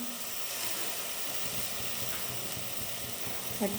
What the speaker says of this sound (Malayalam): കുറച്ച് ചൂടുവെള്ളം ഒഴിച്ചു കൊടുക്കാം